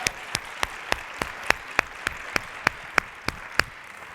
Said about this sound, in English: Let's give them an amazing round of applause